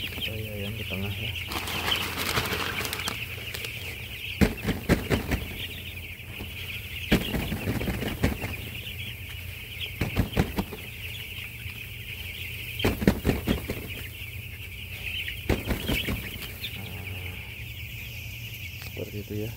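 Chickens in a poultry house cluck and squawk throughout, with repeated bursts of wing flapping and a constant high insect-like or ventilation hum behind them; a voice speaks occasionally.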